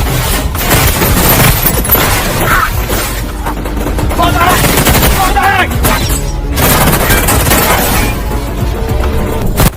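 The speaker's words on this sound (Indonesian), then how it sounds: "Adegan tembak-menembak pun terjadi." Rapid bursts of gunfire and booming impacts from a film shootout scene, loud and dense throughout, with crashes and voices mixed under the firing.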